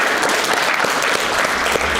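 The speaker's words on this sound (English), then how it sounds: "Let's give them a round of applause." An in-person audience applauds after a live debate, a short burst of loud, dense clapping heard close with no voices on top.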